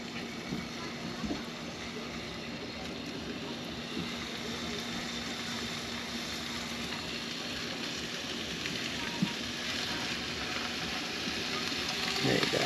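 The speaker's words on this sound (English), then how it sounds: "it's starting to sizzle now" Food sizzles in a frying pan set on a barbecue at a stormy coastal campsite, a steady close crackling hiss running throughout with a faint low hum beneath.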